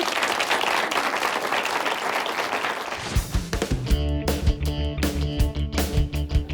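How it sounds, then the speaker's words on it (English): An audience breaks into loud, dense applause for about three seconds, then it gives way to distorted, rhythmic music with heavy bass beats. "Give her a round of applause"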